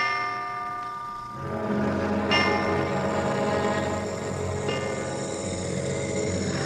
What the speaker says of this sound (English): I dreamed church bells were tolling my death.